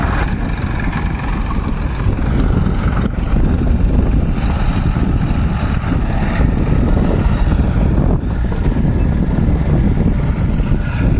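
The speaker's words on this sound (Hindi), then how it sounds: "दोनों ट्रैक्टर, तीनों ट्रैक्टर चालू हो गए हैं।" Three tractors running together in a farm field, a loud continuous engine rumble with heavy wind buffeting the microphone throughout, no voices.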